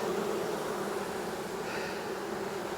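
Honeybees buzzing around an opened hive, a dense steady drone at moderate distance, continuous and alone.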